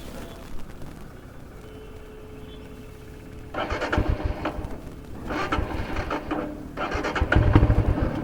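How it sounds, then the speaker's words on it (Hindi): A 2021 Royal Enfield Himalayan BS6 motorcycle with a stalling problem is started: after a quiet lead-in, repeated bursts of starter cranking and engine noise come in uneven pulses, moderately loud and close. "तो अब मैं इसको स्टार्ट करने की कोशिश करता हूँ।"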